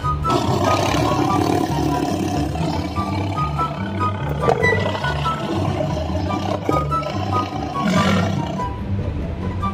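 A tiger roaring, a loud, low growling roar that swells and holds over several seconds, close and continuous with no talk.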